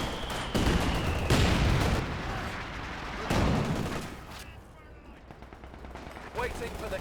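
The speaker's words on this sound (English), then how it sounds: "the Brenns are just lighting up these Axis troops" Bren machine guns firing in a Company of Heroes 2 battle against Axis troops, in loud rattling bursts with sharp gaps between them, mixed with other distant gunfire.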